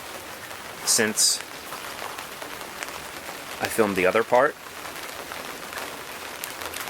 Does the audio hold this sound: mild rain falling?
yes